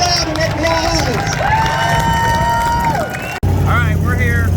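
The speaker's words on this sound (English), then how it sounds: "Ladies and gentlemen, give him a big round of applause!" Spectators at the Holley LS Fest East 2023 burnout contest cheer and applaud loudly after a burnout crash, with whistles, shouts and engine noise in a steady roar that cuts off abruptly near the end.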